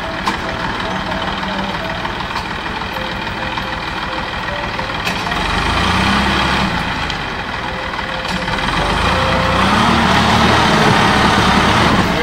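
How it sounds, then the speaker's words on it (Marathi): A tractor engine labours to haul a fishing boat ashore at Bankot, a loud, rough diesel drone that swells and strains in two pushes, with people talking over the noise. "बघूया जोर लावतोय का काय ट्रॅक्टर."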